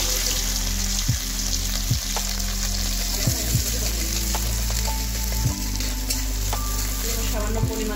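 Crushed potato hitting hot oil tempered with nigella seeds, a loud, steady sizzle and crackle close by, with occasional scrapes and clinks of a spatula stirring in the pan.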